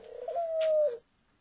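A pet turtle dove perched on a person's shoulder gives one soft, steady coo lasting under a second, very close and clear against a quiet background.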